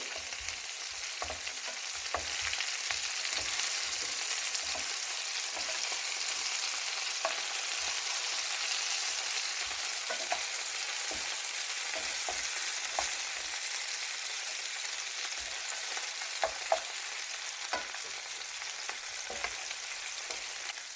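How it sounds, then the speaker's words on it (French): Beef meatballs sizzle steadily in a hot pan, close and continuous, while scattered soft knocks and scrapes mark them being turned over. "C'est le moment de retourner nos boulettes. Elles sont bien colorées."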